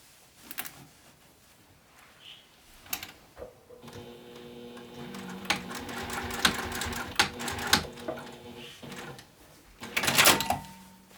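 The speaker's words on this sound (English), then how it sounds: "I'm just going to go right over and sew over all sides to make sure I have that part closed" A sewing machine stitches around the sides of a fabric pouch in short, rapid bursts of mechanical clatter, with quiet pauses and small handling clicks between runs.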